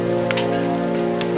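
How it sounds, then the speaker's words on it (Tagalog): Large hailstones fall during a storm in Abha, Saudi Arabia, making a dense, steady hiss of impacts with a couple of sharper, louder hits standing out. "Ang lalaki ng mga yelong bumabagsak!"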